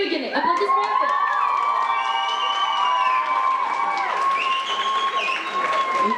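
A crowd cheers and shouts steadily, with scattered clapping and whistles blending into a continuous, loud roar.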